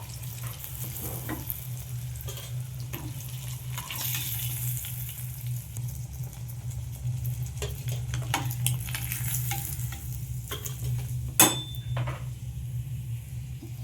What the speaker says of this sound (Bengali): উল্টে পাল্টে ভালো করে মাছগুলো আমি ভেজে নেব